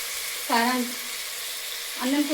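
Fried onions sizzle with tomato pieces and chili powder for tomato rice, giving a steady close hiss broken by two brief tonal, voice-like sounds.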